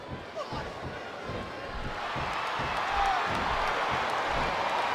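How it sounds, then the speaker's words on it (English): Arena crowd noise from the WWE SmackDown vs Raw 2007 video game at a Summerslam-style event, a steady loud roar that swells slightly, with rhythmic thuds underneath. "This capacity crowd is making their opinions known tonight."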